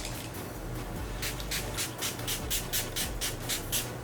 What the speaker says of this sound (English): I'm gonna mist my face with the Festival Refresh from Too Faced